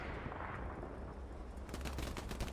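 Tank cannon and gunfire in the video game Hell Let Loose on the Kharkov map, a dense rumbling barrage of shots and booms, with sharper rapid cracks toward the end.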